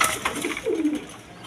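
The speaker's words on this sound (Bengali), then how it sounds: "এখানে আরেক পেয়ারের রাসগোল্লা কবুতর" A big-sized pair of Rasgolla pigeons, male and female, coo in low, rolling bursts at close range, with no voices.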